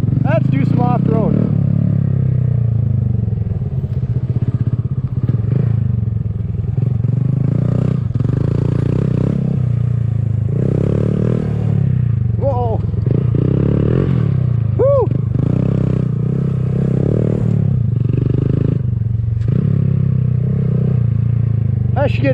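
A Honda Grom motorcycle is ridden off road, its engine droning steadily and loudly with small revs and rattling bumps throughout.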